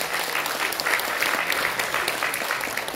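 A dense, sustained wash of applause fills a Korean symposium's opening ceremony, with many hands clapping at once in a steady, loud crowd sound.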